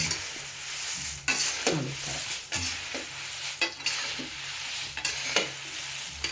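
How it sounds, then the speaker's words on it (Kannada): Dry chillies roasting and being stirred in a pan, with a steady sizzle and rhythmic scraping strokes about every second, close and fairly loud; a brief word is spoken. "ಹುರಿಯುವಾಗ ರೊಟೇಟ್ ಮಾಡ್ಕೊಳ್ತಾ ಇರಬೇಕು ಕೈನ"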